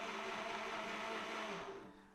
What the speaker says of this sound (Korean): 이렇게 해서 귤 4개 갈아봤고요.